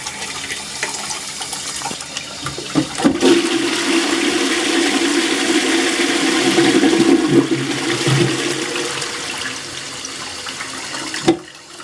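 A toilet cistern flushing and refilling after a water mains failure, a loud rushing gush lasting about eight seconds, with water hissing and gurgling before it cuts off with a clunk.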